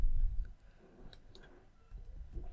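Quick, soft clicks of a computer mouse come in a close pair, faint against low room rumble, with no talk.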